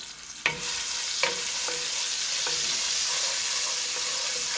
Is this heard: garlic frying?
yes